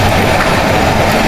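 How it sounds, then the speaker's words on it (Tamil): A monorail train passing outside a shopping mall in Kuala Lumpur, a loud, close, steady rumbling roar with dense rolling noise throughout the short moment and no talking. "வெளியில் வந்த உடனே அங்கே மொனோரோ ட்ரெயின் இருக்குது."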